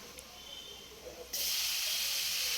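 Nigella seeds dropped into hot oil, a quiet pan that bursts into a sudden, loud, steady hiss of sizzling that holds to the end.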